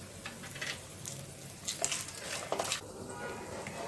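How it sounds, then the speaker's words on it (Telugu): Cashew nuts frying in a pan with mustard seeds, cumin and dried chilli pieces for coconut rice, a soft, close sizzle with light crackles and stirring scrapes rising in places. "జీడిపప్పును వేసి వేయించుకోవాలి."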